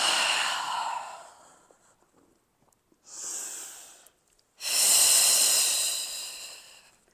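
Breathing during an intermediate full-body Pilates workout: a long audible exhale, a shorter breath, then another strong, breathy exhale, all close to the microphone with no talking.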